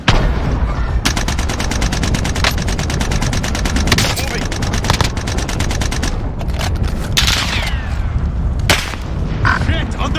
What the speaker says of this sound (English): Shit, under heavy fire here.